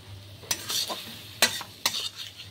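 Kashmiri chilli powder and other ground spices stirred and sautéed in hot oil for a spicy Bombay duck (loitta fish) jhuri, with three sharp scraping strokes over a faint steady sizzle, close and alone.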